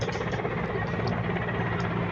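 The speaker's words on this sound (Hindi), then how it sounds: "इस तरह से आसमान को चीरते हुए तीनों हेलीकॉप्टर उड़ चुकी है" A helicopter takes off from a public election rally ground in Lohardaga, Jharkhand, with three helicopters departing. The engine and rotors give a loud, steady droning roar that stays constant throughout.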